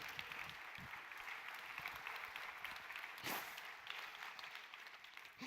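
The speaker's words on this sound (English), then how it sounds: "Can I get a round of applause on that?" Audience applause at a retail industry plenary session in Milan, a steady broadband patter of clapping filling the hall at moderate level throughout, with one brief louder burst near the middle.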